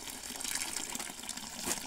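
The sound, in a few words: hot water poured into a mortar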